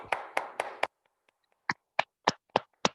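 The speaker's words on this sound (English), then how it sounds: "Okay, clap your hands" A group in a classroom brain-training exercise claps hands in unison: four sharp, close claps, a short pause, then five more evenly spaced claps.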